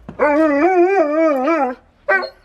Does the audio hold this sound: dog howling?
yes